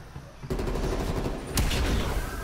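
AK rifle fire in Call of Duty Cold War zombies mode, a dense rapid burst starting after a half-second lull and holding loud and steady to the end, with a sharper crack partway through.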